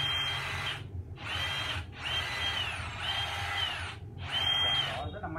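Dewalt cordless hammer drill in drilling mode, running in four whining bursts of about a second each, separated by short pauses, close and fairly loud over a low hum.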